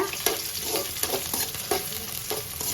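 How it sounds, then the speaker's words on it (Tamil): Onions fry in a pan for dry fish curry, a close, continuous sizzle broken by regular scraping strokes as they are stirred, with no talking. "வெங்காயத்தை வந்து நல்லா வதக்கிக்கணும்"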